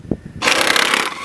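A 17mm bolt on a Honda CR-V/Accord belt tensioner is hit with an impact gun: a brief knock, then a loud, sustained rattling buzz of the gun hammering for nearly a second before cutting off.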